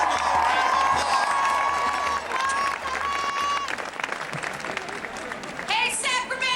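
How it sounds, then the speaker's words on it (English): Applause and cheering rise from a large outdoor crowd at a women's march in Sacramento, with sustained clapping, whistles and shouts that thin toward the end before a voice speaks over the noise. "Please give Angelique a wonderful round of applause."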